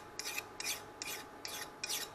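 A metal file rasps over the hardened spine of a knife forged from an old car spring, five evenly spaced short strokes, quiet and close, with no talk.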